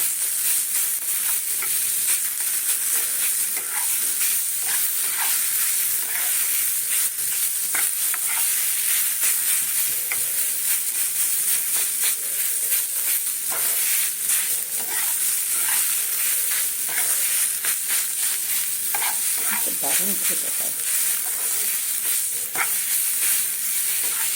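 Soybeans stir-fried in a pan for soybean-potato chops, a loud continuous hiss and crackle with constant scraping and stirring throughout, no voices.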